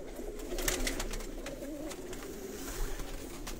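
A Sialkoti pigeon coos softly in a loft, a few low, rolling calls rising and falling, close by and fairly quiet against faint background noise.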